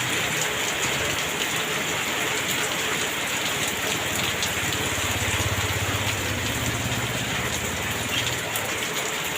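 Heavy morning rain pours down steadily in Banyumas, a dense continuous hiss of drops on surfaces close by, with a faint low engine hum underneath and no talking.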